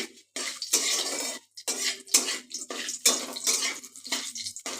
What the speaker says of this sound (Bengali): এবার একটুখানি এগুলো নাড়াচাড়া করে নিচ্ছি